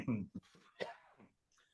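A single harsh cough up close, followed by a short throat-clearing rasp and faint breathing, with no words spoken.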